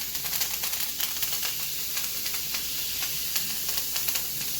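Steak sizzles hard in a pan of butter and thyme, a loud, dense, crackling spatter that runs continuously up close, with scattered sharp pops and no talking.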